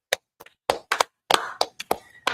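Sharp, close hand claps ring out in an uneven rhythm, some single and some in quick pairs, with short pauses between them.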